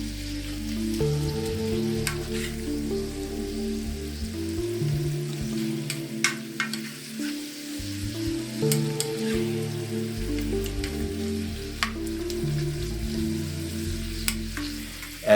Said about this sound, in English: Stir and fry for about 4 minutes till they're starting to get pink.